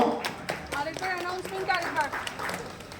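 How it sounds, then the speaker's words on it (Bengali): A crowd claps briefly at a Durga Puja award ceremony honouring the Harakutir Ray-Banerjee family home. Scattered claps sound under close, ongoing talk from an announcer. "সবাইকে বলবো একটু জোরে হাততালি দিতে হরকুটির জন্য।"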